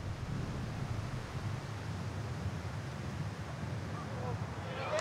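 Steady broadband wind buffets a golf course during a Challenge Tour event, a constant rushing roar throughout with no pauses.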